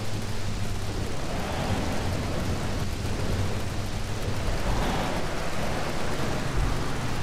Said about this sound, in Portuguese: Está de chuva aqui, pá.